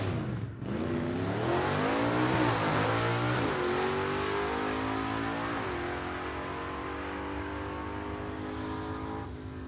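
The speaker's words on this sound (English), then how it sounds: "his 56 Chevy in super stock trim is going to go down" A 1956 Chevy super stock drag car launches down the strip at a Southeast Gassers Association test-and-tune meet, its loud V8 roar climbing in pitch through several gear shifts before slowly fading into the distance.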